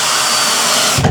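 Power drill driving screws into joists during a budget workshop build, a steady whirring motor running loud and close for about a second before it winds down with a low thump.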